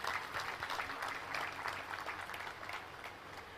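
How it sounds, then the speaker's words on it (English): Steady applause from the audience at a university convocation ceremony, a dense wash of many hands clapping at moderate level, slowly tapering toward the end. "All of us should really, really give a big round of applause to Somaiya family."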